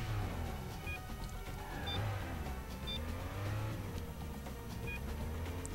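Steady engine drone of a car being driven in the Stuntman video game, holding a continuous revving hum with slight pitch swells throughout and no talking.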